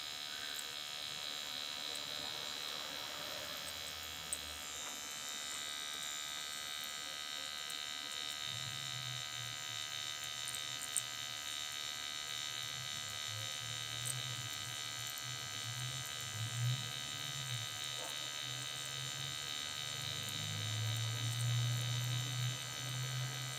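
A four-needle permanent makeup machine buzzes steadily in a continuous electric drone while touching up eyebrow tattooing, with a low hum that strengthens and wavers in the second half.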